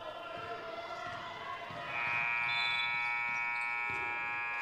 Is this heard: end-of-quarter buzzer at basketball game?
yes